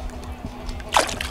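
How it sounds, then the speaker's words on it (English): A catfish splashes in open water near a boat, making a single brief, loud splash midway through, with people talking nearby. "He's gonna splash, dude."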